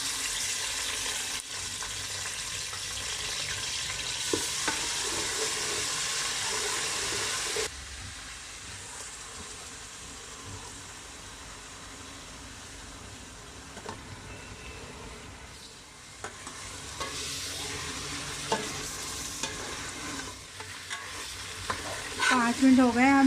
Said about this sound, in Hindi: पाँच मिनट हो गए हमें इसे भूनते हैं।